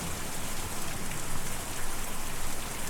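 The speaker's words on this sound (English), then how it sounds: "We're just going to turn down the rain sounds a little bit." Steady rain in the Kentucky Route Zero video game, a dense even hiss of falling drops pattering on surfaces, moderately loud and continuous with no voices.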